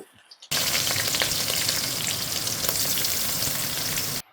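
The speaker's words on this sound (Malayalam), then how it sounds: "അതിലേക്ക് നമുക്ക് കടുകിട്ട് പൊട്ടിക്കാം കറിവേപ്പില ഇട്ട് കൊടുക്കാം" Mustard seeds and curry leaves splutter loudly in hot oil for a fish curry, a dense, steady crackling sizzle that starts abruptly and continues close up without talk.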